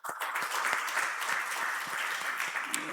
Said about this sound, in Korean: 우리 방문하신 분들에 대해서 우리 환영의 박수 한번 하시면 감사하겠습니다